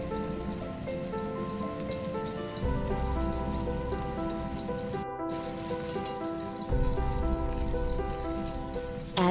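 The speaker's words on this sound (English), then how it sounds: "Add a spoonful of bean paste to stir fry until red oil is produced." Bean paste sizzles in hot oil with scallions, ginger and garlic in a wok, a steady crackling spatter like rain with brief louder surges when the ingredients are stirred, no voices.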